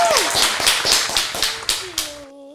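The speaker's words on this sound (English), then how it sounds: "Can I get a round of applause," A short burst of audience clapping for Krystaly, with a few distinct claps in an uneven rhythm, a voice also faintly audible, ending abruptly.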